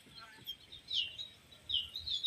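A bird calls outdoors near a rural home, giving a few faint, high chirps spaced across a quiet background.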